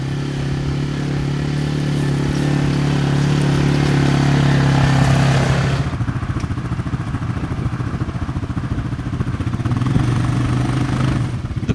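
A TGB Blade 550 four-wheel-drive quad bike engine runs steadily on a farm, a loud close rumble that shifts to a lighter, rougher idle-like chug partway through.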